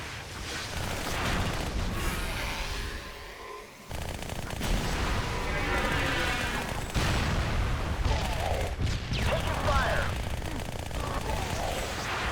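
Rapid submachine-gun fire from the SMG in the video game Halo: Spartan Assault, sounding as dense, nearly continuous bursts that last the whole stretch with only a short break partway through.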